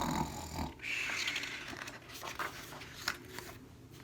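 A snoring sound effect for a sleeping Bernard in a read-aloud children's story: a broad, rasping rumble that fills the clip with a dip near the middle, and no talk.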